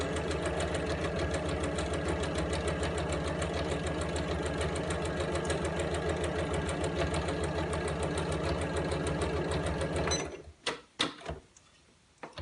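A sewing machine stitches fabric for an iPad mini tablet case, a loud, fast, even mechanical whirr running steadily for about ten seconds and then stopping, followed by a few clunks.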